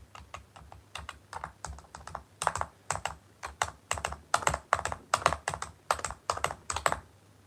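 Fingernails tap and type on a quiet computer keyboard, close and soft, with bursts of rapid clicks separated by brief pauses and no talking.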